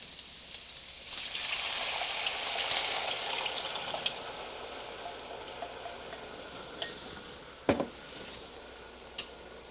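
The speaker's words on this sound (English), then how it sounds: "And immediately add your tomato." Tomato goes into a pan of garlic for marinara sauce, giving a steady wet hiss and faint sizzle with light clinks of a utensil against the pan and one sharper knock near the end, close and without talk.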